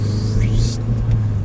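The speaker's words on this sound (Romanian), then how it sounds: "se aude foarte mișto turbina" A 2002 Saab 9-3 Aero's turbocharged engine rumbling steadily inside the car, with a short rising turbo whistle that sweeps up and then cuts off, heard close.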